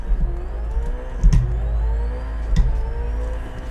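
A Ferrari engine in Forza Horizon 5 whirs and revs, pitch climbing and falling in sweeps with two sharp gearshift blips, close and loud with no talk.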